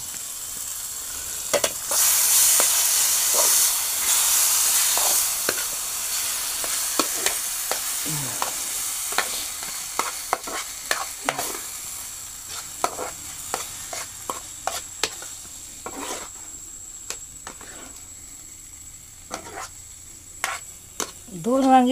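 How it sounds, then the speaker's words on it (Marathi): Tomato and eggplant stirred in a hot pan for a Maharashtrian baingan bharit. A loud sizzle dominates early, then thins out under repeated spoon scrapes, knocks and clatter against the pan, with a few brief vocal sounds. "टोमॅटो लगेच शिजतो. आता आपण ढवळून घेऊ पटकन."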